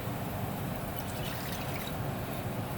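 Water poured into a cup and then into a pot to cook two servings of rice, a steady continuous trickle heard up close throughout, without any talking.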